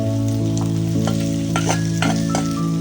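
Masala paste of ground spice mixture with tomato, ginger, garlic and chillies sizzles steadily in a pan while being stirred, with a continuous close frying hiss and several sharp scraping strokes of the spoon across the pan.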